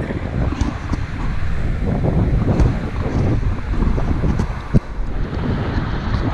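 Gusting wind buffets the microphone steadily outdoors while a 117-foot, 7,300-pound conveyor is slowly lowered into place, with rumbling low-end noise throughout and a brief knock near the end.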